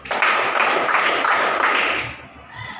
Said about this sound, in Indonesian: Anak berkat tepuk 5 kali.